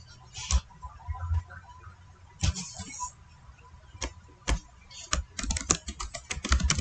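Someone typing a line of code on a computer keyboard, quiet scattered keystrokes with pauses, then a faster burst of clicks near the end, close and soft against a faint background hum.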